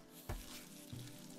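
Food sizzling and frying as a character cooks in the video game RimWorld, a steady crackling hiss with a couple of soft bumps, alone without talk.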